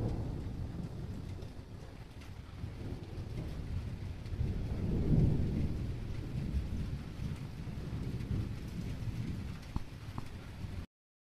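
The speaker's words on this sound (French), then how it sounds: "Il commence à bien pleuvoir." Heavy rain pouring steadily with a low rumble, a constant wash of noise swelling slightly midway, no voices.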